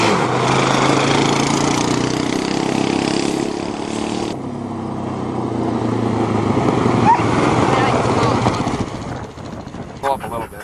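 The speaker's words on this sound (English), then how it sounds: "When you hear the motor going fast, you squeeze the clutch" A Suzuki Z400 ATV engine running on a farm, a loud, steady drone that shifts in pitch as it revs, with a sharp change partway through, then a voice speaks briefly near the end.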